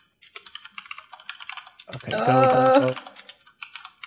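Rapid computer keyboard typing clicks during a Minecraft Build Battle session, steady and close, interrupted midway by a loud burst of talking and game sound, with brief speech elsewhere.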